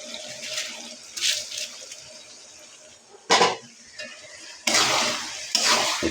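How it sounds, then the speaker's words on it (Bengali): Rice is tipped into a pot of cooking beef for bhuna khichuri, giving short bursts of pouring, rattling and hissing between quieter stirring sounds, close by with no talking. "এখন আমি চাল দিয়ে দিব এখানে, যে চাল ইয়ে করে রাখছিলাম, চালটা দিয়ে দিব"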